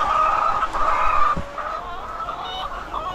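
Chickens cluck softly near feed, a continuous layered murmur of hens with occasional sharper calls, close by and without talk.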